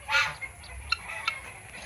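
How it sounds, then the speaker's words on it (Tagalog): A backyard farm goose gives one short honk followed by a few faint, brief calls, fairly quiet and somewhat distant. "Ito yung ating gansaw."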